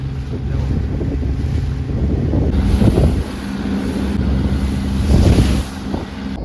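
A boat brought from Valsad sits out on the water, giving a steady low rumble while wind buffets the microphone throughout, swelling louder around the three and five second marks, with no speech.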